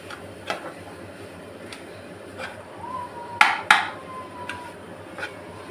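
Boiled potatoes and vegetables are mashed in a pot for paratha filling, with scattered dull knocks and scrapes and two sharper metallic clinks close by, over a quiet background.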